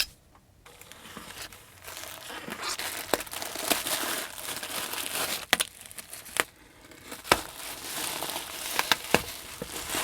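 Plastic packaging crinkles and rustles while an R36S handheld game console is unboxed, with irregular close crackles, tears and soft handling taps continuing throughout and no talk.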